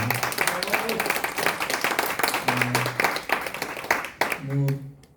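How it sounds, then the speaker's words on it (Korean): An audience at a book-talk event in Korea claps for the author Jang Jin-hee, a burst of applause from a roomful of people while a host's voice speaks over it and through it. "박수 한번"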